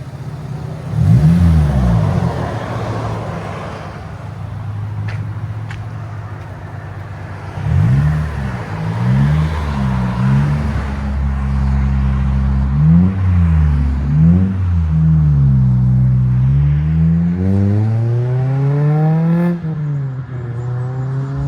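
Exhaust from a 2005 Toyota Corolla XRS 1.8L with a 2.5-inch system and Megan Racing muffler, idling low then blipped in several sharp revs before one long climbing rev near the end, close and loud.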